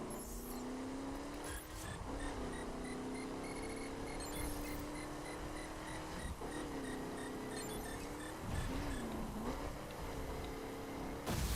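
A car engine hums and revs continuously, its pitch shifting up and down as it drives, with a few sharp knocks.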